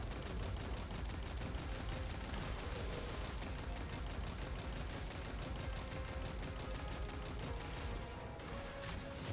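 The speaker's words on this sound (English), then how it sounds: "now we're just going to dump our heavy ammo into this abomination" Heavy weapon gunfire roars through a Destiny 2 Presage mission fight, a dense, continuous barrage of shots filling the whole stretch at steady loudness, with a brief dip near the end before firing resumes.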